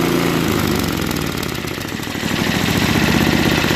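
A Craftsman 524 trac-drive snowblower engine idling after a quick carburetor cleaning: a steady, loud, close mechanical chugging with an even rhythm and a slight rise in level toward the end, with no talking.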